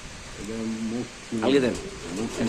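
Chocolate-faced pigeons cooing at close range in a pigeon market, two rounds of low, throaty coos with a brief pause between them, clear and fairly loud.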